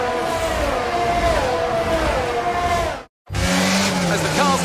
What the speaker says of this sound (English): the formation lap is underway and the track temperature looks warm